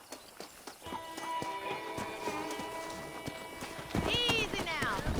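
Hooves clip-clopping at a steady pace from a pack of wild horses in the Red Dead Redemption video game, with a whinny near the end and speech over the top.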